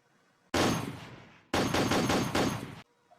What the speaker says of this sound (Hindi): ऐसे कैसे गन फायरिंग हो रही है?